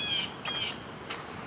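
Outdoor birds on a suburban Houston street give three sharp, squawking calls in quick succession, fairly close and loud over faint background noise.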